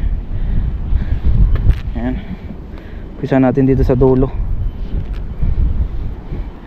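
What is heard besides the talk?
strong wind at sea on a fishing boat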